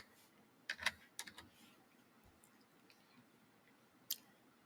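A few quiet computer keyboard keystrokes typed in short clusters, crisp clicks spaced apart in a near-silent room with no talking.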